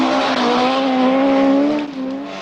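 Audi rally car at speed on a rally stage in Wales, its engine holding a high, strained note close by, dipping slightly as it shifts near the end.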